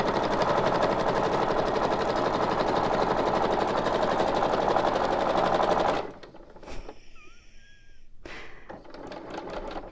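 A sewing machine stitches a belly band made of book pages for a junk journal, running as a loud, fast, steady mechanical whir for about six seconds before it stops and a few quieter handling sounds follow.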